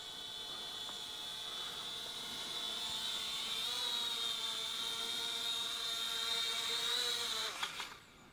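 Eachine E58 folding drone's small motors whine steadily at close range as it settles in to land, a high tonal buzz holding for about seven seconds before cutting out abruptly as the motors stop.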